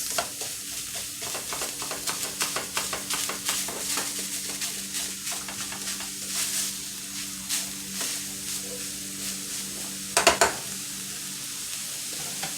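Egg roll filling of meat sizzles and is tossed in a hot pan over medium-high heat, a steady close fry hiss broken by rhythmic stirring scrapes and a brief louder clatter late on.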